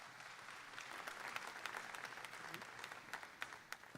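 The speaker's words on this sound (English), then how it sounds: "let's give a round of applause for Adam and his entire team" Crowd at the Ohio State Fair Sale of Champions livestock auction giving a round of applause, a faint, distant-sounding sustained clatter of many hands with a few sharper individual claps standing out.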